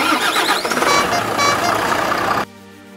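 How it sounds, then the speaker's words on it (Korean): A used 7.5-ton front-axle roll-off truck cranks and its engine catches, giving a loud, rough mechanical roar for about two and a half seconds before it cuts off sharply into a quieter, steadier hum. "시동 걸어봐"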